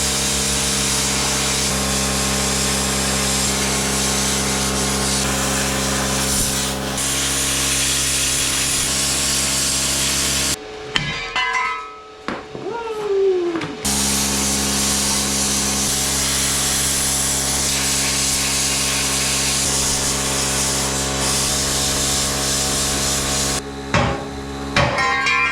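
A power tool cuts through the steel frame of a 1955 GMC 100 pickup for a C-notch, a steady loud grinding whine that drops out briefly midway and resumes, then cuts off again near the end, with no voices.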